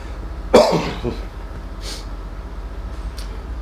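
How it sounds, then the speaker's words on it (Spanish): A single sharp cough close by, followed by a softer second cough and a faint throat sound, against a quiet background. "La tos no me deja."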